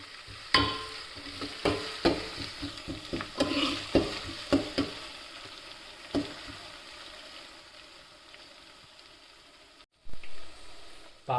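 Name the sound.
ginger garlic paste frying in pan for chicken curry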